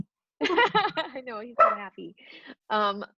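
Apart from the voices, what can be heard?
dog barking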